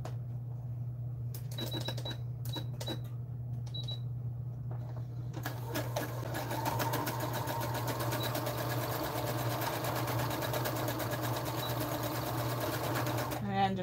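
A sewing machine stitches a zigzag seam on pajama pants, first in short bursts, then running continuously at a fast, even rattle over a low hum, with a voice faintly present.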